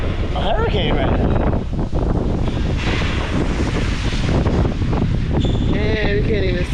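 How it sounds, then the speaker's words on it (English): Hurricane-force wind roars across an outdoor microphone in a steady, loud, unbroken rush, with thin whistling tones drifting in and out and an indistinct voice buried in the gusts. "The wind is blowing so fucking hard right now"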